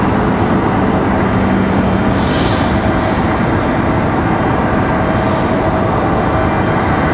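An MD-11 jet airliner at Raleigh-Durham International Airport on a hot summer day gives a loud, steady engine roar that fills the whole stretch without a break, with no voices over it.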